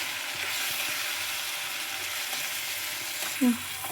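Tempering for a pickle sizzles steadily in a pan, a soft, even frying hiss running throughout with one brief louder pop near the end.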